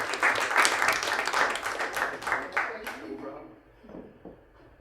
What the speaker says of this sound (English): So big round of applause, and also thank you to Kevin for presenting.